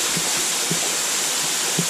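Newton's Waterfall near Akaroa, a steady rushing hiss of falling water that fills the short moment evenly and close by, with no talking.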